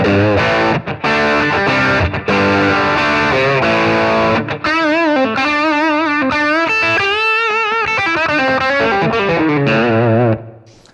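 Loud, distorted electric guitar through a Blues Driver overdrive pedal playing sustained chords, then a run of bent single notes with a gritty overdriven tone, fading out at the end.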